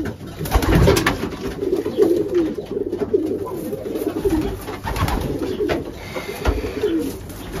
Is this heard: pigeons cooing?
yes